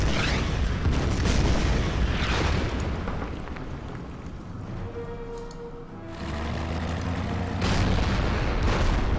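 Artillery fire in the WWII strategy game Order of Battle at Sevastopol, heavy booming blasts rolling one into another, loud and sustained, with a brief lull before the rumbling barrage picks up again.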